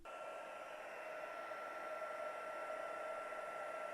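A hair dryer blows over a fresh watercolor layer on a pumpkin painting, a steady whirring hum with constant airflow hiss that holds unbroken and fairly close throughout.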